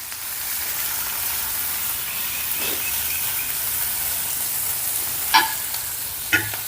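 Corn kernels and halved tomato stirred into a sizzling tempering, a steady close frying hiss with a few sharp spoon clinks against the pan near the end.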